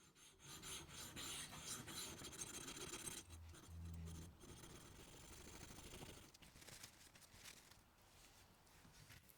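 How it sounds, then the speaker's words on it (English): A steel marking knife is sharpened on a DMT coarse diamond stone with repeated rasping strokes, quiet and close, with short pauses between passes. "Start here with a DMT coarse stone."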